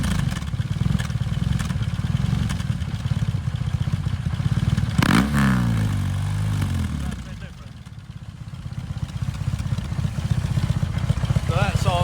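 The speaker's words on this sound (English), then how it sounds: "he had one of those Jekyll and Hyde exhausts on it, and here's how it sounds" A 2025 BMW R 18 B motorcycle with a switchable Jekyll and Hyde exhaust, a deep rumbling idle and revving nearby, dipping briefly before rising again, with someone talking over it.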